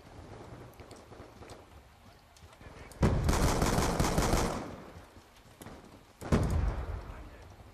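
Loud automatic gunfire bursts in Call of Duty Black Ops 2 multiplayer, shots fired through walls, two heavy volleys a few seconds apart over quieter game ambience, with someone speaking German beforehand.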